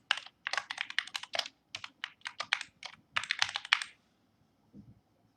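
Someone types a new folder name on a computer keyboard in quick close bursts of crisp key clicks, separated by short pauses, and then goes quiet apart from one soft thump.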